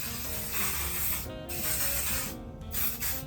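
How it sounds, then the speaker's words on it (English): Bursts of Kenra Volume Spray Super Hold Finishing Spray aerosol hairspray hissing steadily, with brief pauses between sprays, close and fairly loud. "I'm gonna go in with some hairspray"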